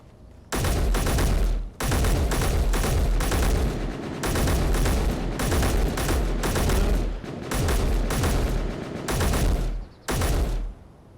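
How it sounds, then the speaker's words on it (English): Rapid-fire rifle in a video game shooting in long automatic bursts, about seven loud sustained volleys separated by short pauses, with no talk over it. "Oh, I do have a rapid fire rifle."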